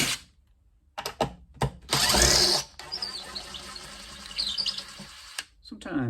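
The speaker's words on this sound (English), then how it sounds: "I'm going to use my cordless impact because it's fast." A cordless impact driver removing screws from a speaker panel, with short bursts of whirring and rattling hammering between quiet gaps, plus clicks and handling noise close by.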